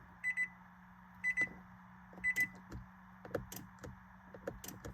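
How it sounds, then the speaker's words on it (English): A Nissan showing a no-key-detected fault clicks and chimes when someone tries to start it; a few paired electronic beeps are heard, followed by a scatter of quiet clicks, all faint and close with no talking. "So it's just clicking."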